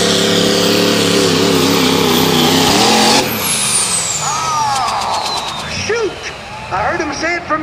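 Diesel 4x4 truck at a tractor pull roars loudly at high revs, then the engine note drops sharply after a sudden break as the drive shaft or rear end snaps, leaving idling and crowd noise with voices.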